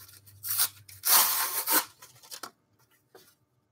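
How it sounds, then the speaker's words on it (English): Cardboard torn by hand in a few close, loud ripping bursts of papery crackle, the longest in the middle, trailing into quieter rustles. "I'm going to rip this cardboard."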